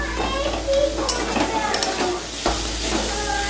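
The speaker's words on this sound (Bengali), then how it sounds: "দেখো হালকা ভেজে নিলাম, হালকা ভেজেই আমি এর মধ্যে দিয়ে দিলাম পটল আর পনির" Pointed gourd and paneer fry lightly in a pan, a bright steady sizzle with scraping stirring sounds and occasional clinks of a utensil, fairly close.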